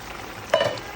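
Haleem cooking in a pot gives a short, close sizzle with a brief bubbling stir over a faint steady hiss.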